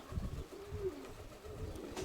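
A pigeon coos softly with low, throaty notes repeating over faint background noise.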